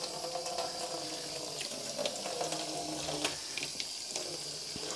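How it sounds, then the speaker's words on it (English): Cold tap water runs steadily from a faucet into a sink, a continuous close splashing hiss with small irregular gurgles. "This is just cold tap water."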